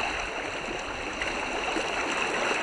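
A creek in central Pennsylvania, a wild brown trout stream during a caddis hatch, flows steadily and close by, a continuous broadband rush of water that stays even in loudness throughout with no talk over it.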